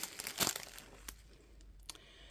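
A sheet of diamond-painting stickers crinkles as it is handled, with a crisp burst of rustling early on, then a few softer crackles and a faint tap near the end, close and fairly quiet.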